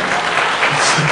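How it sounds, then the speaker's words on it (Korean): A church congregation applauds during a Sunday afternoon worship service, a brief loud burst of dense clapping filling the room, with faint voices mixed underneath. "박수 한번 쳐주세요."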